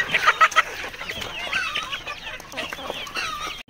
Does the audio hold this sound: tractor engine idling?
no